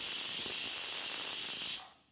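A pressure cooker whistle vents steam while sambar cooks, a loud, steady high hiss that carries on unbroken, then cuts off sharply near the end and fades away.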